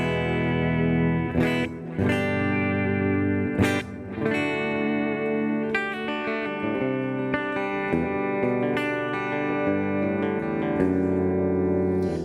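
Electric guitar played through a NUX Mighty Lite BT MK2 amp on its Fender Super Reverb preset, sustained chords and picked notes ringing with reverb, steady and full with no talking.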